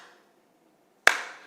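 After near silence, one sharp, loud hand clap rings out close by and decays quickly, a single smack mimicking someone slapping a mosquito at night.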